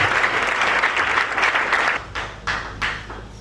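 A church congregation at a plenary of the Eglise du Réveil du Congo applauds loudly in a dense wash of clapping, which then breaks into a few separate fading bursts.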